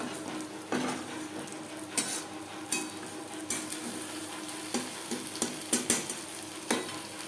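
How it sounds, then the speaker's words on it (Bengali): Brinjal cooking in fish oil in a pan, stirred with a utensil: a steady close sizzle broken by several sharp scraping clinks against the pan at irregular intervals, with no voices. "এর মাঝে আমি এক দুবার নাড়াচাড়া করে দিচ্ছি"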